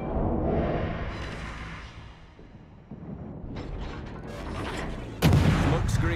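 Naval guns firing in the World of Warships video game, heavy booming salvos and mechanical rumble building toward a loud, close blast near the end.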